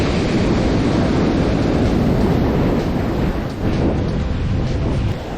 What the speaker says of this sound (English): Waves are great today.